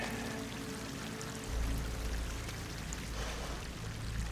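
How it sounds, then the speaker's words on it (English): In Horizon Forbidden West, water pours into an enclosed underground pit with slick walls, a steady low rushing wash that swells slightly partway through, moderately quiet and with no voices. "Water's coming in."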